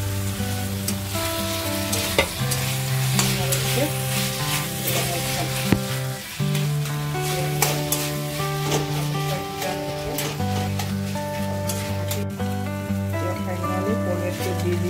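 Tomatoes hitting hot oil in a pan of pumpkin for a pumpkin and paneer curry, a steady close sizzle and frying crackle running throughout, with a sustained musical tone underneath.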